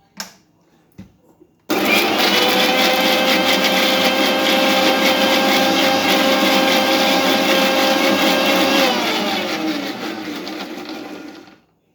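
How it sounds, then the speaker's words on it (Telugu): After a few soft knocks, a mixer grinder blending tender coconut roars to life with a loud, steady whirring blend, then winds down near the end. "నేను మిక్సీ జార్లోనే వేసి చూపిస్తున్నాను"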